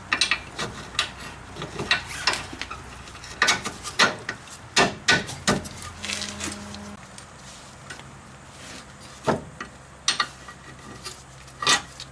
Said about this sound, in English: Just got to put all the bolts through loosely and then tighten them all at once.